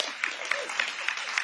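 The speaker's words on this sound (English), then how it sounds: "y'all need to give them a round of applause" Brief crowd clapping at an anniversary luncheon for fraternity brothers of the Gamma line, a short burst of scattered hand claps with a few sharper peaks, moderately close and somewhat muted.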